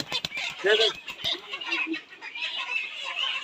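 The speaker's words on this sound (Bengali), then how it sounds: "এই যে মুরগিটা দেখতে পাচ্ছেন" Layer hens at about seventy days old, in a poultry setting, cluck and squawk in short repeated calls, close and fairly loud, while a person speaks intermittently over them.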